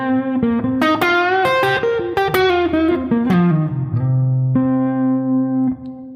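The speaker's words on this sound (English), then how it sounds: "Now the first thing you'll notice is that I'm using quite a bit of distortion in my sound." Electric guitar playing a pentatonic blues lick with heavy distortion, fingerpicked: a quick run of bright sustained notes and bends, then a held note ringing out, loud and alone.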